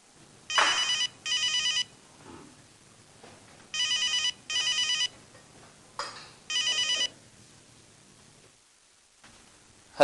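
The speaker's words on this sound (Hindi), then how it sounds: "चावला को फोन लगाओ" A telephone rings in repeated paired bursts of bright electronic trilling, loud and close, with brief pauses between rings and no talk over it.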